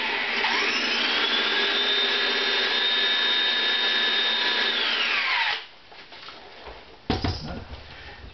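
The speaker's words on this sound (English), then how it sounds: "switch to a larger drill" A number 23 drill bores out a violin end pin, whining loud and steady for several seconds before winding down, followed by quieter handling noises and a brief burst of contact sound.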